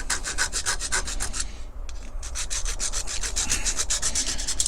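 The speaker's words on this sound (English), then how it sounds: "So I'm going to file this down now." A metal file works a part of a Corgi 1127 Simon Snorkel die-cast fire engine, producing close, steady rasping strokes in a quick repeating rhythm, with a brief pause partway through.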